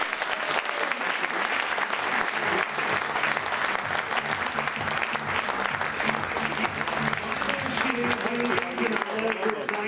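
An audience at a women's épée fencing World Cup semifinal in Leipzig applauds steadily to welcome the finalist, a dense continuous clapping that lasts throughout while an announcer talks over it.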